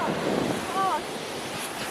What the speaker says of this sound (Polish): Ale szła fala, no.